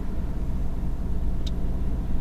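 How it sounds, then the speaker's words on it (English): A car passes close by on a road, overtaking a stationary car parked uphill in traffic, its engine and tyre rumble swelling and fading as a low steady wash. "I'm going to balance my pedals to let this one overtake. I don't want to move when it's going past me"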